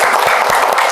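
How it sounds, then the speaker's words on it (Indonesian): At a health seminar on heart health, an audience claps in a short, loud burst of dense applause lasting under a second. "tepuk tangan untuk semuanya"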